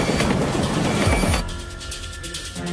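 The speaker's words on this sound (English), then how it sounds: "Signal operators see the runaway train rushing past them." A runaway commuter train roars past at the 1988 Paris Gare de Lyon crash, a loud, close rumble with wheel clatter that drops off sharply partway through into a lower, fading rail hum.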